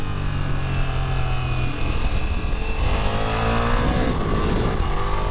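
2024 Ducati Multistrada V4S Grand Tour motorcycle accelerating hard on the road, a loud continuous engine note climbing steadily in pitch with wind rush, no talking.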